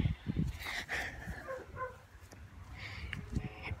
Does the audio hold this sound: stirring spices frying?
no